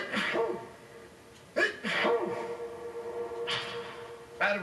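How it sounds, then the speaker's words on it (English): A man sneezes into a handkerchief, several short, bursting exhalations and sniffs spaced through the clip, up close and fairly clear against a quiet room. "for this final test, he's sneezing in blue."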